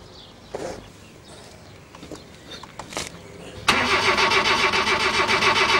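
A car engine cranks and catches after a few scattered clicks and knocks, then settles into a loud, steady idle with a pulsing rhythm, with no talking.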